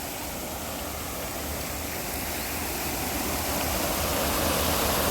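A flooded village stream rushes in a steady, dense roar that grows slightly louder, with no voices over the constant torrent.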